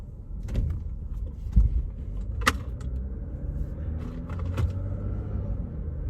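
Steady low road rumble inside a moving car heading into town in Texas, with a few light clicks and jangles like keys or interior rattles over the continuous engine and tire drone.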